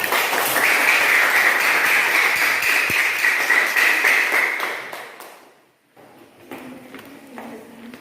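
A classroom of students claps together for several seconds, a dense patter of hands that fades out, followed by a brief pause and some light shuffling and faint voices.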